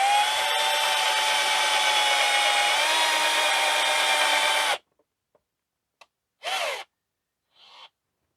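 A Black+Decker 18V cordless hammer drill bores into wood with a steady, loud whine of several seconds that then cuts off, leaving silence broken by a few small clicks and two short motor bursts.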